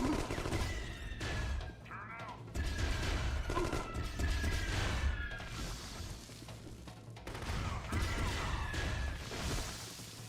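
Rocket launcher blasts and crashing explosions from The Conduit, a first-person shooter, arrive in heavy roaring waves mixed with whooshes and layered game effects, loud and continuous with no talk over them.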